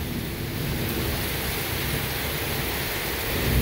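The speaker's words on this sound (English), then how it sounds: "you see the flashes of lightning, and then the thunder hits pretty close afterwards" A severe Gulf Coast thunderstorm roars with steady heavy rain and rumbling close thunder, a dense continuous wash with low booming underneath that swells slightly toward the end, no voices.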